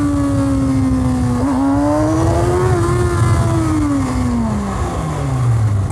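Kawasaki Ninja ZX6R 600cc superbike on its stock exhaust, with no slip-on or decat system, revving close by: the engine note climbs smoothly, holds, then drops away in one loud, continuous throttle sweep.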